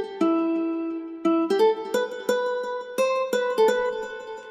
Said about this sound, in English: a little bit of backup from this little whistly piano sound